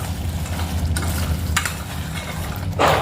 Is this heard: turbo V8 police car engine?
no